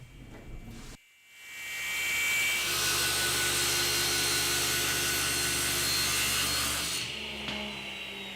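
Table saw resawing wooden boards to half-inch thickness for serving trays, the blade spinning up and then cutting with a loud, steady roar for about five seconds before easing off.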